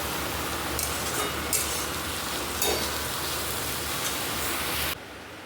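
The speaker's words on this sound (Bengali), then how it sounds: "আমি এখানে আলু পটল ভাজছি টিফিনের জন্য" Potatoes and pointed gourd fry in a pan for a home lunchbox, a dense continuous sizzle with occasional stirring scrapes, before the sound drops away at the end.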